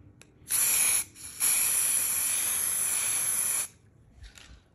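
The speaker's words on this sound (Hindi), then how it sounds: "तो चलो अभी इसको स्प्रे देते हैं कि इन सबको अभी ब्लैक स्प्रे देते हैं" Black spray paint hisses from an aerosol can in two close, steady bursts, a short one and then a longer sustained one of about two seconds, with quiet pauses between.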